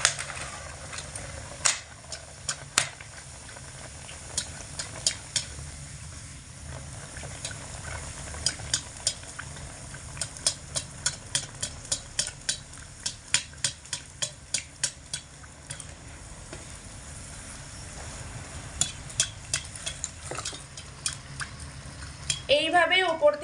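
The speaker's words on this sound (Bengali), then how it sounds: "হালকা তেলের মধ্যে মোগলাই পরোটাগুলো দিয়ে" Raw-potato mughlai parathas fry in lightly heated white oil in a wok, a low steady sizzle punctuated by repeated sharp clinks and scrapes of a spatula turning them, ending in brief louder clatter.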